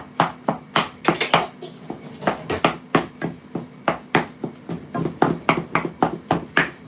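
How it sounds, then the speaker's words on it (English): Potatoes and sweet potatoes are mashed with a wooden mwiko in a pot, a close series of rhythmic knocking thuds, about three per second, with no talking. "So I've got potatoes and sweet potatoes, and I'm mashing them."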